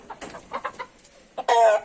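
Small Asil rooster, about eight or nine months old, with his hens, clucking in short bursts that swell into a louder, denser burst of fowl calls near the end, close by.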